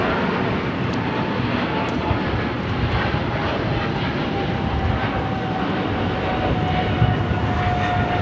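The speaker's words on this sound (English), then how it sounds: "This is China Airlines Cargo 5137 taking off to Taipei on the 777 freighter." China Airlines Cargo Boeing 777 freighter taking off from Los Angeles, a loud, steady broadband jet engine roar with a rising whine, continuous throughout and heard alone.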